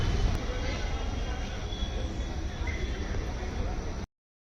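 A train rumbling steadily at Davanagere railway station in the South Western zone, a loud continuous roar of rolling wheels, with a voice talking underneath.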